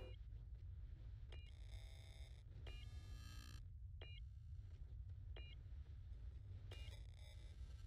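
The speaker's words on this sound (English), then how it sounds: "you should be able to hear a beeping" In the video game Star Citizen, a red probe gives repeated short electronic beeps at roughly regular intervals, fairly faint over a low constant engine rumble, with occasional buzzing bursts.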